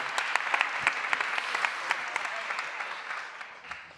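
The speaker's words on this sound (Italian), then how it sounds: "Un applauso anche per lei, eh?" An audience at an Italian bookshop literary event applauds steadily for several seconds, dense clapping at moderate distance that fades slightly toward the end, with no talking over it.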